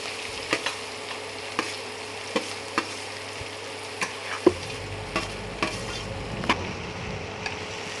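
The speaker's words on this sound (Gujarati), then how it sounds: "हवे आपणे जे कोबीज सुधारेલું છે તે આમાં નાખી દઈશું" Chopped cabbage is stirred into spices frying in a pan, giving a soft steady sizzle with a series of faint scraping spoon strokes at an irregular rhythm, close by and without talk.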